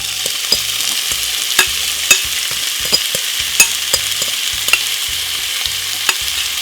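Steady crackling sizzle of prawns frying in hot oil, punctuated by regular clinks of a utensil stirring the pan, with no voices.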